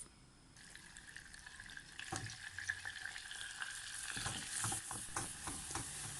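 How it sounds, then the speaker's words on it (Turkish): Quiet sizzling and light stirring of butter melting in a pot, a soft continuous crackle with occasional scraping clicks, no voices. "Bir dolu yemek kaşığı tereyağını tencereye alıp eritiyoruz."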